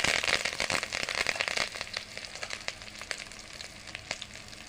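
Curry leaves hitting hot oil in a pan burst into a loud crackling sizzle that eases after a couple of seconds into softer steady frying with scattered pops, close up.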